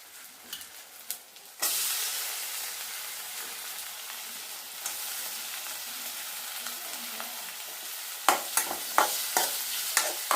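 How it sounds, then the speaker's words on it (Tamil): Onion and tomato sautéing in oil in a pan: a steady frying sizzle that jumps louder after a moment, with scrapes and stirring knocks toward the end, close up and without talk. "அப்புறம் தக்காளி போட்டு வதக்கணும். நல்லா குழையாக வதக்கணும்."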